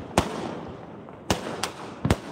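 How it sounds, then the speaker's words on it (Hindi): Four sharp Diwali firecracker pops spaced unevenly, loud against a low background hiss, with no talking. "आतिशबाजी स्टार्ट हो गई,"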